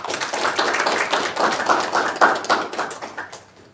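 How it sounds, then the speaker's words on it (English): A modest audience at a business presentation in Melbourne, Australia claps for a few seconds, a fairly close scattering of individual claps that gradually thins and fades out. "So big round of applause to you, brother."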